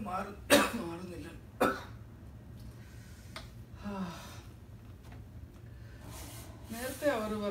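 A person in a Malayalam comedy skit coughs hard twice near the start, followed by quieter throat sounds and breathy vocal noises, close to the microphone.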